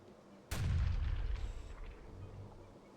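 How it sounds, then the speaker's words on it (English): A single sharp blast bursts out, followed by a deep rumbling boom that slowly fades away. "At which point there is another series of explosions."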